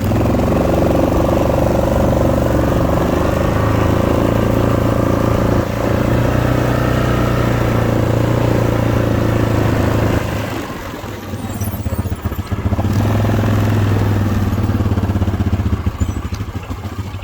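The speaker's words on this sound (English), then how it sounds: "Now you guys know that tractor." A heavy tractor engine chugs steadily at close range, a low droning rumble that briefly dips and then resumes, with no talking over it.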